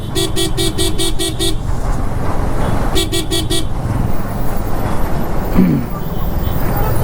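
Busy road traffic at a city circle, with a steady engine and road rumble and two bursts of rapid repeated car horn toots, one long and one shorter, over the constant traffic noise.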